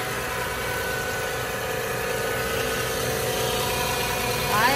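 A 2004 Japanese-import Lexus GX 330 with a 3.3 V6 idles in a steady, even drone heard up close with the bonnet open, a continuous hum without revving and a faint rise near the end.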